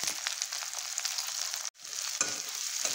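Long-sliced onions and green chillies hiss and crackle in hot oil for a steady, moderately faint sizzle, briefly cut off in the middle and then quickly resuming, with no speech.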